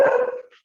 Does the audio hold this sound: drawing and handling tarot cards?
no